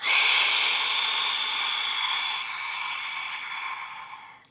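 A long, deep breath out during yoga breathing, a steady airy whoosh that stays strong, then gradually fades and trails off near the end.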